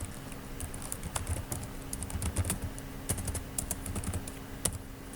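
Keys clatter on a computer keyboard as a command is typed into an Ubuntu terminal, quick irregular clicks and taps at close range over a low steady hum, with no voices.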